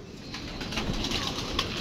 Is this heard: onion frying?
no